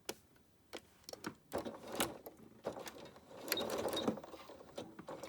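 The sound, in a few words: sewing machine stitching basting stitch on knit hem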